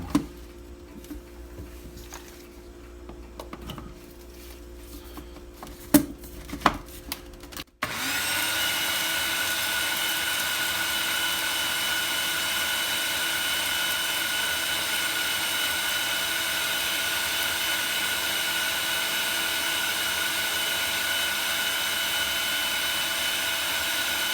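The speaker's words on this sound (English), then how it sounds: "You're using the blower for that?" A blower starts abruptly after a few seconds of scattered clatter and then runs steadily, a loud, even roar with a whining hum that stays on while cassava flour is being made.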